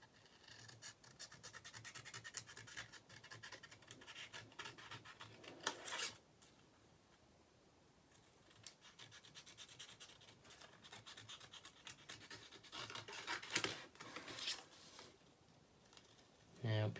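Scissors snip through paper, cutting a forked-tongue shape for a craft monster bookmark: close, raspy bursts of cutting in two stretches, separated by a quieter pause.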